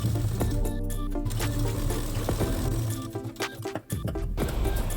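A sewing machine runs steadily as it press-stitches a plain blouse, its continuous whirring with rhythmic clatter close by, easing and briefly pausing near the end.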